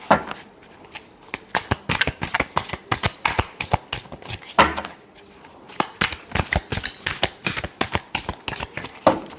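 Tarot cards being shuffled by hand, a rapid run of crisp riffling flutters in repeated bursts, close and loud, with brief pauses between shuffles.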